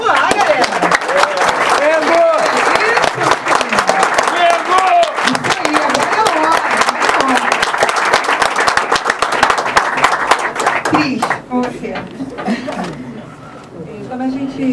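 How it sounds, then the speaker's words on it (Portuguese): Sustained applause from an audience at a Flamengo club presidential candidates' debate, loud and dense clapping with crowd chatter and some laughter, thinning out near the end. "O futuro presidente do Flamengo merece palmas mais fortes"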